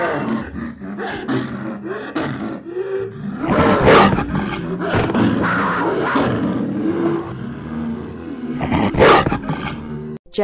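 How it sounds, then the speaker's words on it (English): A jaguar roars repeatedly in a children's animal video, loud rumbling calls rising in bursts with the strongest near the middle and end, alone with no talking. "Jaguar."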